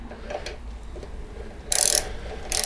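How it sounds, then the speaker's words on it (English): Allen wrench tightening the front fork pinch bolts on a Kawasaki Vulcan 1600 Classic motorcycle: faint metallic ticks, then two sharp bursts of ratcheting clicks, close and otherwise quiet. "And then we tighten up the pinch bolts."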